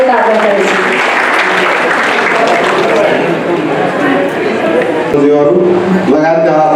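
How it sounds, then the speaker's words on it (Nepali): Applause from a crowd at an education conference in Janakpurdham, loud, sustained clapping heard close, with voices mixed in. "एक बेर ताली से स्वागत कर देवाक लेल हार्दिक आग्रह करै छी"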